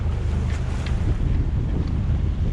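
On a sailing boat in choppy water with a north wind, strong wind buffets the microphone over a deep rumbling wash of waves against the hull, loud and continuous with no voices.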